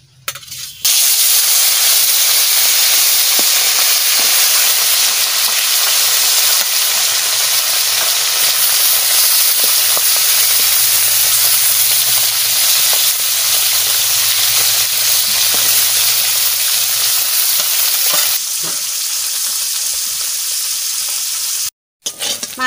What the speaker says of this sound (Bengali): তেল গরম হয়ে গেছে, আমি মাছ দিয়ে দিচ্ছি।